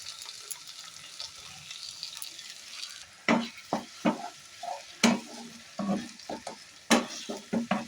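Ginger, garlic, onion, tomato and green chili paste frying for a duck egg curry: a quiet sizzle at first, then a run of sharp, close spatula scrapes and stirring strokes in a loose rhythm.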